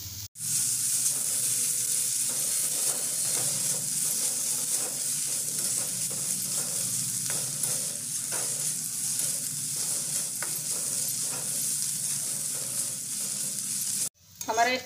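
Paneer and vegetable momo stuffing sizzling in a pan while being stirred, a steady loud hiss of frying with light scrapes, close and continuous before cutting off near the end.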